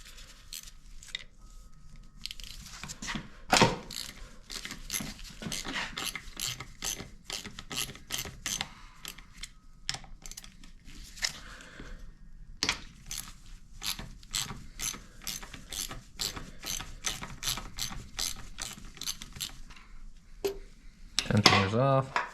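A ratchet removes the cam chain tensioner on a Harley-Davidson 103 engine, clicking in rapid repeated bursts separated by short pauses, with occasional metal clanks close by.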